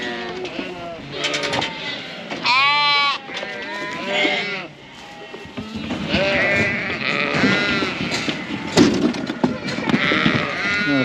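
Sheep bleat repeatedly and loudly as they are let out, several overlapping, wavering calls close by with some shuffling and background noise.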